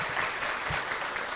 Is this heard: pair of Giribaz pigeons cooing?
no